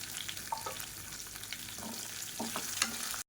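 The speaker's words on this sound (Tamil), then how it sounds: "இப்போ இது எல்லாமே பொரிய ஆரம்பிக்குது." Garlic, ginger and whole shallots frying in hot oil, a continuous close sizzle with occasional stirring scrapes and pops, no talking.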